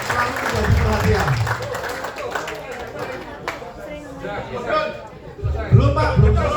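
People in a corporate leadership training session clap for sales staff. The moderate applause is partly masked by someone talking over it and some chatter from the room.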